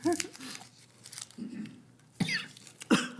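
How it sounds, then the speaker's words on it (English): Scattered coughs in a board meeting room, a few short sharp bursts spaced apart amid quiet rustling and crinkling of a lozenge wrapper. "I've got everybody coughing now."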